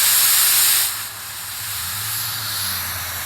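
Spray gun hissing paint onto pony wheels, a loud continuous hiss that eases slightly after the first second and carries on steadily, with a low hum beneath.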